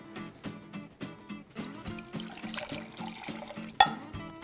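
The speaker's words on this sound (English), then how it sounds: "We're gonna add 1½ cups of water." Water is poured into a pot of quinoa, a gurgling, splashing stream with a rhythmic glugging pattern, close and fairly soft, with no talk over it.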